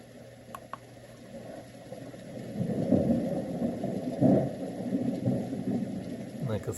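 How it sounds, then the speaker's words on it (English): A night thunderstorm plays from an AIRSEE white noise machine, with a steady rain wash and low rolling thunder that swells twice at a soft to moderate level, no talking. "Like a thunderstorm during the night."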